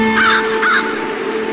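A crow caws twice in quick succession, clear and close, then the sound fades into a quiet tonal background.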